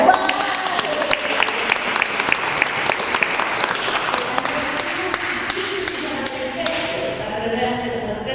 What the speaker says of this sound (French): Je vous applaudis.